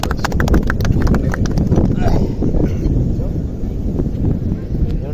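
A voice imitates horse hooves clip-clopping at Alappuzha beach, with a rapid, close, loud rhythmic patter over wind noise on the microphone.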